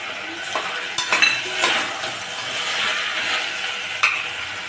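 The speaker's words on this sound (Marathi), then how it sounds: "जरा चांगल्यापैकी आपण परतून घेऊया।" Red chilli powder, garam masala and turmeric are sautéed in a pan for masale bhat. A close sizzle runs under sharp scraping and clinking strokes of a spoon against the pan. No voices.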